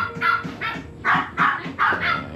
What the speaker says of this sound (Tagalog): ang iingay na aso